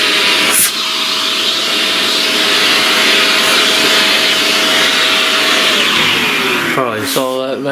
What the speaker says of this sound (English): Let's vacuum up some of that mess.